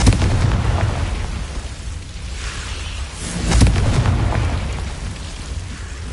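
Confringo blasting spell exploding in the fantasy game Hogwarts Legacy: a heavy, rumbling blast that swells to a booming peak partway through, loud and close over dense background noise.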